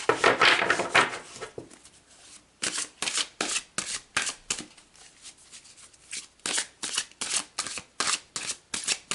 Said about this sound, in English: let's pull some more cards and gain some more insights